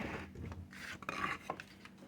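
A straight cut made on a piece for a Titanic wreck model diorama, heard as a few close, short rasping scrapes and rubs in quick succession, with no talking.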